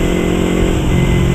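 A 2015 Yamaha YZF R25 250 cc two-cylinder sport motorcycle revs close by, holding a loud, steady, buzzing engine note for the whole moment with no voices.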